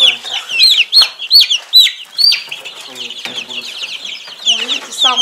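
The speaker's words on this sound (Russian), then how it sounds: "А, не курочка, а петушок черненький." A black rooster clucks and crows repeatedly in a poultry yard, loud and close, the bird's calls coming in quick overlapping bursts throughout.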